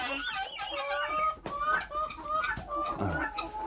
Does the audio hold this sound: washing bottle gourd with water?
no